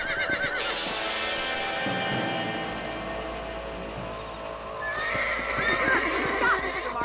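In a western-style video game, a horse whinnies loudly near the start and again later while hooves clip-clop steadily underneath, with no one talking.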